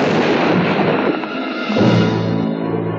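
Death Star battle station firing on planet Alderaan as a filmstrip sound effect: a loud, rumbling blast with a roaring, crackling wash that dips briefly and swells again, heard alone.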